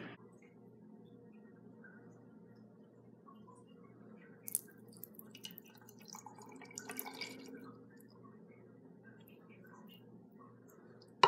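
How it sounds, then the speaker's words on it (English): Leftover water is emptied out of a bag of Orbeez water beads, producing a brief cluster of soft drips and squishy splashes partway through, over a low steady background hum. "Dump out the extra water that's in there."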